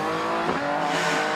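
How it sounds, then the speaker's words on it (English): A hill climb race car powered by a 3-litre Jaguar V6 engine roars past at Prescott, its loud, steady engine note rising and falling slightly with a hint of tyre noise, close and without voices. "This is a 3-litre Jaguar V6 engine of the type that would have powered the X-type Jaguar"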